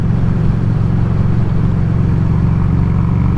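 Harley-Davidson Street 500 motorcycle cruising at 50 mph in sixth gear around 3,300 RPM, a loud steady low engine drone with wind rush, unchanging for the whole stretch.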